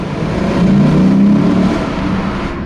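A Lexus RC-F Track Edition at full throttle gives a loud, close engine drone that climbs in pitch as it accelerates, then eases slightly, with no voices.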